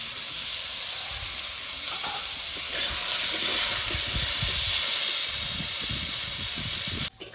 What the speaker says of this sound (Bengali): উচ্ছেগুলো সব ভেজে নেব।